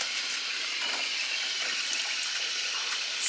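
Water gushes steadily from a hose into a sailboat's onboard water tanks, a constant close rushing hiss with no breaks.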